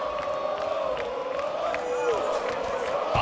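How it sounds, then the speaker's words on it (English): An arena crowd roars and cheers steadily throughout a UFC 2 video game bout in the clinch, a dense, loud wash of voices with rising whoops, and no commentary heard over it. "The crowd loves one of the greatest champions of all time, Anderson Silva."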